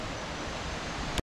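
Steady roar of rushing water at the Tad Yuang waterfall in Laos, a dense broadband wash that holds constant and close, then cuts off abruptly near the end.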